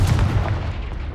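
Blasting spell explosion in the video game Hogwarts Legacy, a single loud, heavy boom with a deep rumbling low end that decays over about a second.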